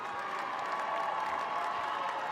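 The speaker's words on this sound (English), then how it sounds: "the cheering that you can hear from the stands has an East Anglian flavour" Steady, distant cheering and applause from the stands at a Cambridge versus Oxford women's university rugby match, a continuous crowd roar with no clear breaks.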